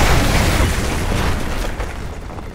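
An artillery strike explodes in Call of Duty: Modern Warfare 2 Remastered with a loud, dense roaring blast that fills the whole clip and slowly decays over about two and a half seconds.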